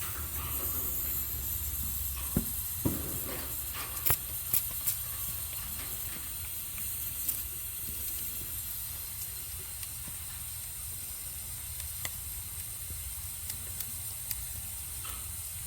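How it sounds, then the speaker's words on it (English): Nitrogen gas hisses into a leaking Goodman condensing coil as it is pressurized. A steady, airy hiss runs throughout at moderate level, broken by a few faint clicks and knocks. "Now we're letting in the nitrogen, pressurizing it."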